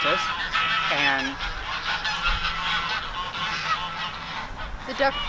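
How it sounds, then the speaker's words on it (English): Geese honking outdoors, loud nasal calls overlapping in a busy chorus with several distinct honks standing out near the start and the end. "the geese have a lot to say about conferences"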